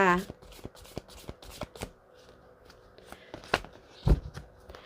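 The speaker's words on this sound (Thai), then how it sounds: "อาจารย์จะเป็นตัวแทนสับไพ่เปิดดวงให้กับชาว ราศีมังกรลัคนามังกรค่ะ" A fortune teller shuffles a tarot deck for a monthly horoscope reading, giving crisp, repeated card snaps and riffles at close range. A short voice is heard at the very start.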